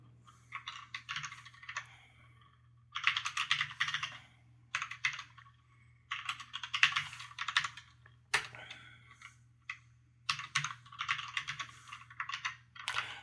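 Keys clatter on a computer keyboard while HTML code is written, coming in quick bursts of close, crisp typing separated by short pauses, over a low steady hum in a quiet room.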